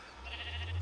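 A Minecraft sheep gives one short, nasal bleat, close and clear, rising slightly in loudness before it cuts off.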